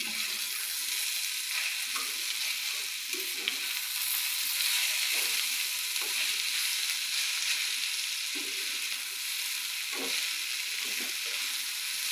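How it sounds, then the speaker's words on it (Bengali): Bitter gourd fries with turmeric in a pan, a steady close sizzle running throughout, with soft scraping stirs and knocks of a utensil breaking through at intervals. "এই যে দেখো আমি তিতা কলাগুলোকে একটু নেড়ে ছেড়ে দেব"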